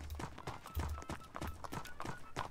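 Horse hooves clip-clopping in the video game Blood and Iron, a quick steady run of hoof beats at a moderate distance with faint background noise.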